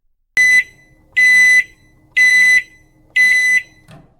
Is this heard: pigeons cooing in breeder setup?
no